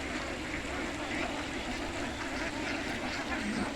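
A flock of ducks quack faintly amid a steady wash of outdoor water and background noise in farmland, calls scattered and indistinct throughout.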